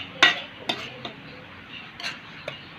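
A lid set onto a pan of stir-fried basil with bamboo shoots: a sharp metallic clank, then a few lighter clinks and taps of cookware, close and fairly quiet, with no talk.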